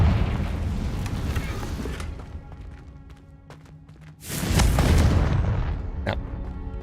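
The Confringo explosion spell goes off in the video game Hogwarts Legacy. A rumbling barrage fades to a quieter stretch, then a heavy booming blast erupts and a loud roar lingers to the end.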